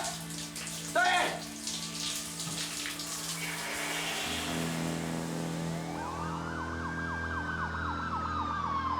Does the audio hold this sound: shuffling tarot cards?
no